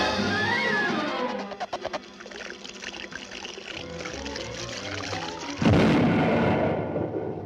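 A Looney Tunes cartoon explosion: after a stretch of busy, rumbling sound effects, one sudden loud blast bursts out and slowly settles.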